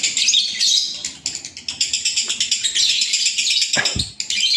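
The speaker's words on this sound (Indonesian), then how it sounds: "Nah ini burung yang udah konslet." Male lovebird chirps close by in a rapid, shrill, continuous stream of high twittering, with brief pauses and a soft thump near the end.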